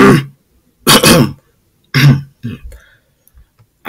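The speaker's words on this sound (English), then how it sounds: "I don't know why I keep coughing." Several short, harsh coughs or throat-clearing bursts, close and loud, separated by pauses, followed by a few faint small sounds.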